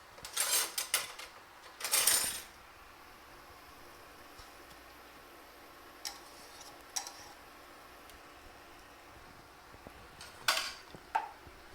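A small spoon scrapes and clinks against a can and pan while scooping coconut milk into a shrimp sauce, a few short close bursts at the start and end with quiet gaps between.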